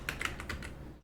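Quick keystrokes on a computer keyboard, about five close clicks in an uneven rhythm over a second, recorded clearly with no voice over them.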